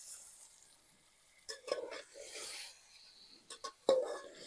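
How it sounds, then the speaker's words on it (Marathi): A spoon scrapes and stirs village-style goat mutton curry in a pot over a wood-fired stove, giving soft intermittent rubbing and scraping strokes with a few sharper clinks, close and quiet. "चांगलं फिरून घ्यायचं मित्रांनो."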